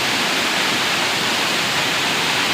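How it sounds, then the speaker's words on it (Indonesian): The Reje Ilang waterfall in Bener Meriah, Aceh, roars as a loud, dense, unbroken rush of falling water heard up close, steady from start to finish with no voices. "Beginilah suasana dari air terjun Raja Ilang Bigul yang berada di Kabupaten Bener Meriah."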